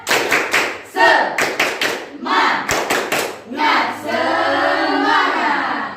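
Students in a classroom repeat their rhythmic spirit-clap icebreaker, clapping together in quick patterned bursts that build to a loud, drawn-out collective shout at the end.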